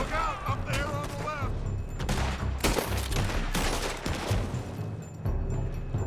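Heavy exchanges of gunfire in Red Dead Redemption 2 ring out as loud, repeated cracks and volleys over several seconds, mixed with shouted voices and game sounds.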